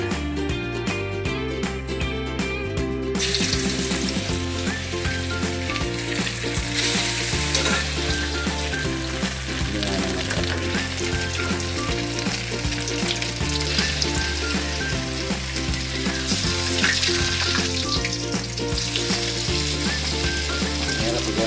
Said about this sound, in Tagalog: Magpiprito na tayo. Ito yung binabad natin kanina.